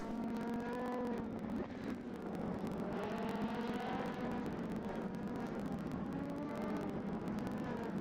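Simulated LMP2 prototype race cars lapping Sebring in a racing game, a steady loud engine drone with rising and falling pitch as cars run nearly side by side into a corner, continuous throughout.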